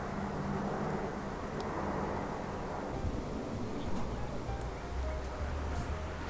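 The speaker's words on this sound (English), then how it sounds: "There's an airplane this time." A fixed-wing airplane drones overhead as a steady, moderately loud engine rumble that holds throughout, with faint background sounds.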